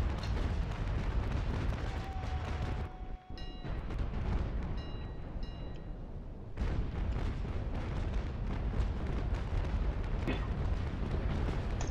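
Ship cannons firing in a naval battle in Naval Action, a dense, continuous rumble of booming broadsides with a brief drop near the middle, loud throughout, with no talk heard.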